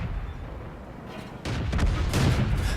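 An artillery shell explodes in World of Tanks: a steady low rumble gives way to a sharp, heavy blast, then a second loud burst follows moments later, with no talking.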